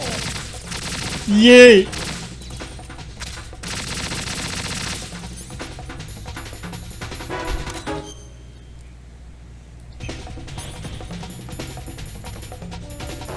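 Bursts of gunfire from Metal Gear Solid 2, played on the RPCS3 emulator, rattling in rapid volleys and clusters across the stretch, with a short loud cheer from a voice early on and a brief quieter gap near the end.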